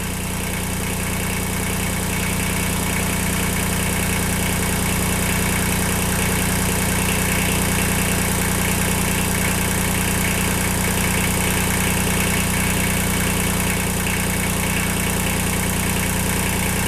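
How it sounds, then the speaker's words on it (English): A Kubota L235 tractor's three-cylinder diesel engine idles steadily at close range, loud and continuous with a constant throbbing drone and vibration, with no revving. "this is also a 3-cylinder diesel. I know it's really loud"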